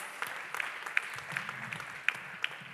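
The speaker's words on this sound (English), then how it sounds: "round of applause" Light applause from an audience at a charity event, scattered hand claps with a few sharper claps standing out, fairly quiet and distant with faint room noise underneath.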